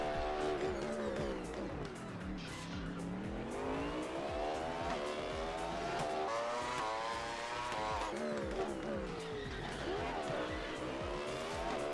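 In the RaceRoom racing game, a race car's engine revs rise and fall continuously while its tires squeal and slide through corners, all loud and close, and a voice talks over it.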